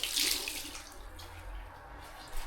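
Running tap water splashes steadily onto a cleaning cloth as it is soaked in a bathroom before scrubbing a moldy shower. The hiss is loudest at the start and continues evenly at close range with no talking.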